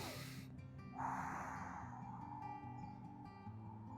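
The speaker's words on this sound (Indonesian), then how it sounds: "Kemudian lepaskan dengan mulut mengatup, dengan mulut mencucu." Slow, steady exhale through pursed lips during a guided abdominal breathing exercise for breathlessness, a soft airy hiss lasting a few seconds over a faint low background hum.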